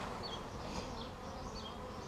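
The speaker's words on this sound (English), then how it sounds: "we got a lot of bees festooning" Honey bees festoon inside a top bar hive during a split, a steady, close, buzzing hum from many bees with faint higher whines drifting over it, with no talking.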